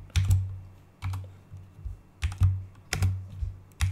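Typing HTML code on a computer keyboard: close, crisp key clicks in uneven bursts and short pauses, with a few heavier keystrokes, no voices.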